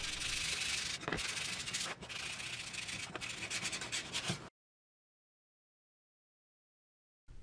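Steady rasping strokes of sandpaper smoothing edges, rubbing back and forth for several seconds, close and fairly loud, then abrupt silence with a brief burst at the end.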